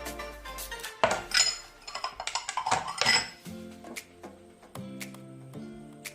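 Coconut chin chin ingredients, including coconut powder, nutmeg and salt, being mixed in a bowl make quick clinks and scrapes of a utensil against the bowl, close and irregular, settling into lighter taps. No one speaks.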